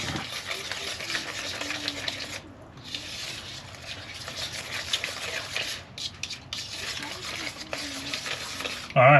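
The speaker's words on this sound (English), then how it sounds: "Alright, mix it together." Chocolate dessert being stirred and mixed in a bowl inside a caravan kitchen: a steady, close scraping and swishing that runs almost continuously, with a few brief pauses.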